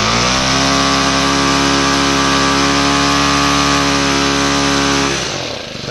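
A small two-stroke string trimmer engine screams at full throttle after its carburettor needle was cleaned, a loud, close, steady high-pitched buzz that holds for about five seconds, then winds down as the throttle is released.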